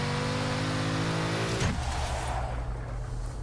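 Car engine in the racing video game Forza Horizon 3 during a rainforest sprint, a loud, close rising engine note that cuts abruptly at a gear shift and then settles into a lower roar, with no talking.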